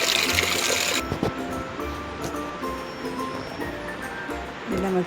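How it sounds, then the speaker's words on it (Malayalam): Diluted liquid fertilizer being poured onto marigold plants, a continuous close splashing and trickling of liquid that starts with a brief louder rush, then continues at a moderate, steady level. "ഇത് നമുക്ക് ചെടിക്ക് ഒഴിച്ചു കൊടുക്കാം."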